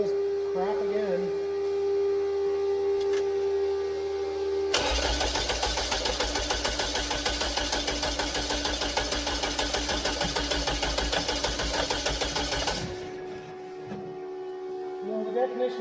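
An aircraft engine cranks after a temporary fuel system repair, with master and fuel switches on. A sustained rhythmic cranking churn runs about eight seconds over a steady background hum, then cuts off abruptly without catching.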